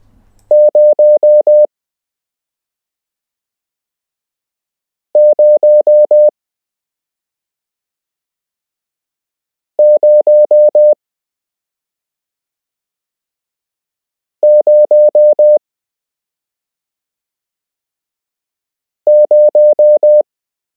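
Morse code for the number zero sent as five identical tone groups, each a quick run of beeps, evenly spaced by long silences and loud and clean with no voice.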